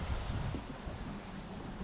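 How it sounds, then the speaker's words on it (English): Steady, broadband wind rumble buffeting the microphone, low and constant throughout with no voices, while perch fishing outdoors. "It's quite windy"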